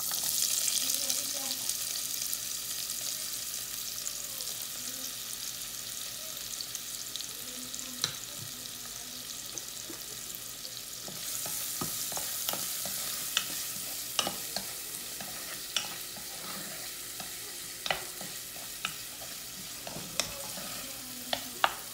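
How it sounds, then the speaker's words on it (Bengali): Onions sizzle quietly in a pan for kofta gravy, a continuous soft frying hiss broken by scattered stirring clicks and scrapes. "এখানে পেঁয়াজ দিচ্ছি"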